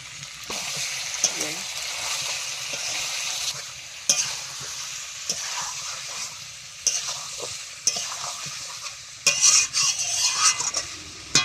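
Meat being stirred and sautéed in a pan while cooking at home, a steady close sizzle broken by sharp scrapes and clinks of a utensil against the pan, with no voices.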